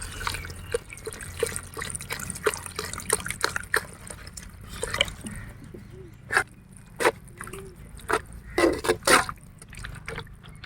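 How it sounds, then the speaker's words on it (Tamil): Water trickles and splashes as it is poured into a simmering egg masala gravy in a village kitchen, a steady liquid patter with scattered clinks and drips, no talk. "தேவையான தண்ணி ஊற்றிக்கலாம்."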